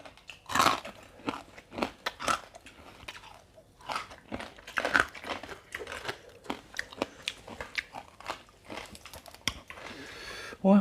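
Crispy pork crackling is bitten and chewed up close, alongside a rustic Thai papaya salad with pickled field crab and fermented fish. Crunches and mouthy chewing come in an irregular run of sharp bursts with no talking.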